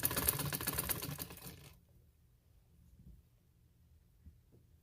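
A sewing machine stitches a trouser hem, a rapid close mechanical whirring for under two seconds before stopping, followed by quiet with a few faint handling taps.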